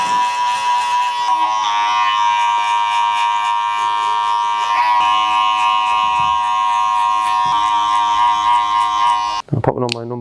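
Electric hair clippers fitted with a number 1 guard buzzing steadily while cutting short hair in a low taper, a loud near whine with someone talking over it, cutting off abruptly at the end.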